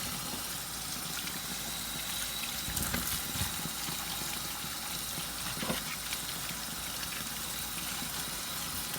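Cut bitter gourd (karela) pieces are rinsed under running water, a continuous soft rush of flowing water with faint handling splashes.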